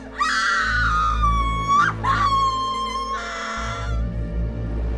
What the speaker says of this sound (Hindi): एक जोरदार चीख निकली